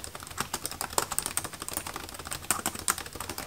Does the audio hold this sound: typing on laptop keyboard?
yes